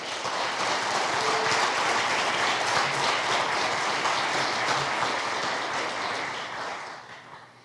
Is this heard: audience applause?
yes